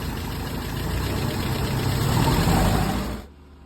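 A truck engine runs loudly and roughly up close, swelling slightly before cutting off abruptly near the end.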